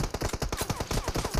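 Rapid automatic gunfire laying down cover fire in a shooting video game, a fast, evenly spaced burst of about a dozen sharp punchy shots, loud and close with no voices.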